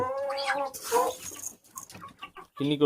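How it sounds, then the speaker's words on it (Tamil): A guinea fowl gives harsh, rasping calls in bursts, fairly close, with scattered clucks and noises between them. "என்னடா அது கிண்ணி கோழி"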